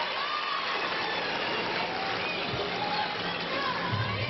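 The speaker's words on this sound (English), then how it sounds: "Boy, the crowd goes nuts." Home crowd at a women's college gymnastics meet, Oklahoma versus Alabama, roaring and cheering steadily after a beam routine, a dense, continuous wash of voices in a large arena without a break.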